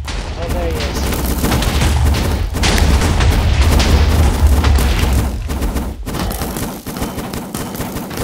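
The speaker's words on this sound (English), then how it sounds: "Watch, he's shooting this guy." Dense, continuous gunfire and booming blasts in the IronFall shooter game, loud throughout with a few sharp drops, under intermittent player voices.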